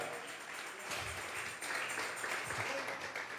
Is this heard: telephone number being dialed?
no